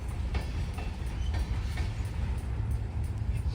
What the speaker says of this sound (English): I'm confused as to what this train is doing.